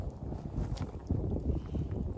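Wind gusts outdoors across a microphone during a campfire breakfast, a low rumbling buffet with uneven surges, fairly faint and without talking.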